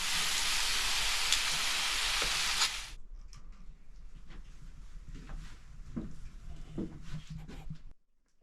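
Steak searing in a super hot frying pan, a loud dense sizzle for about three seconds before it cuts off, followed by quieter crackles and faint handling sounds.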